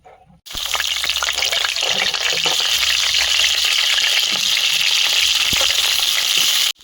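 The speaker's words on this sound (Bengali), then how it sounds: "কড়াইতে তেল দিয়ে দিচ্ছি আলু ভাজতে দেবো" Potatoes frying in oil in a wok-style kadai give off a loud, steady, crackling sizzle that runs unbroken for several seconds, with no talking.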